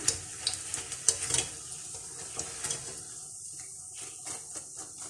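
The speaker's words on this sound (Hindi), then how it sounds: "भल्ले हमारे फ्राई हो चुके हैं, अब इनको मैं निकालूंगी।" Mash and mung daal bhallay frying in hot oil, a steady soft sizzle with scattered crackles and light stirring clinks, busier at first and then thinning out.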